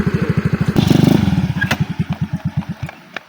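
A motorcycle engine revs nearby in loud, rapid pulsing bursts that quicken into a fast rattle, then slow and sputter back down toward idle.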